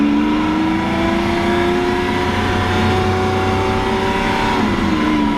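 Lamborghini Aventador Roadster, Pirelli edition, its engine humming steadily at a sustained loud drone with a slight pitch drop near the end, heard close up.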